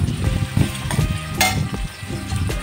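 Onion fries gently in oil for a capsicum and potato bhaji, a moderate bubbling sizzle with a few stirring scrapes and one sharper clatter midway.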